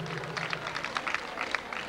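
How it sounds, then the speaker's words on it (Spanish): Audience at a 1998 beauty pageant in Tehuitzingo applauds, a faint, somewhat distant patter of many hands clapping in uneven bursts that carries on throughout. "Un aplauso también para ella."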